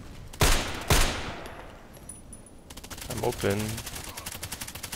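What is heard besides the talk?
gunfire in a sniper video game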